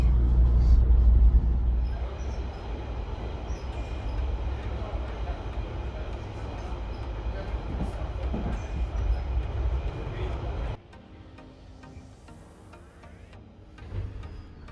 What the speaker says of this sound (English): This is a Piccadilly line service to Heathrow terminals 1, 2, 3 and 5.